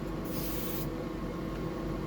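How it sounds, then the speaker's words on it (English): Paint spraying onto a fish stencil design, a broad steady hiss that runs for about half a second over a constant low background rumble and then cuts off. "we don't want it spraying everywhere."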